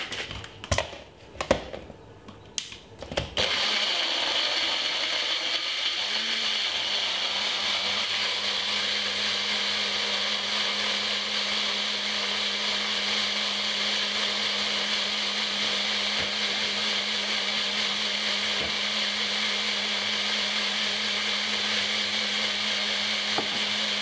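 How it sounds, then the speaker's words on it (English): A countertop blender whirs steadily for about twenty seconds, blending a juice of apple cider vinegar after a few clattering knocks at the start, with the motor's hum loud and unbroken. "now we're going to blend this for about 4 seconds until it comes out smoothie"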